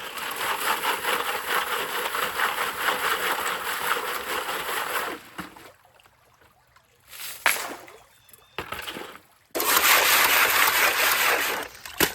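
Water rushes steadily through a gold sluice set up for classifying gravel, a broad hiss that drops away briefly in the middle with scattered splashes and then returns at full strength.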